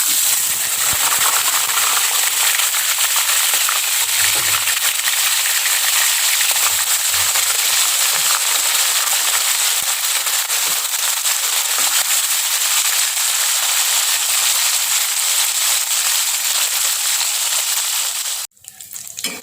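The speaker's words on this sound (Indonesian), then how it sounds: "Di sini kita goreng ikan yang sudah saya berikan garam dan bumbu kaldu tadi ya" River fish seasoned with salt and stock powder, about 250 grams, fries in hot oil with a loud, continuous sizzle and crackle that holds steady throughout, then cuts off abruptly near the end.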